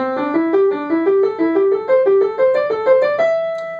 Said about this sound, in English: take the first 4 notes of the scale and play it as a group